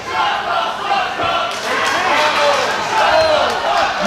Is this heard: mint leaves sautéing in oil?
no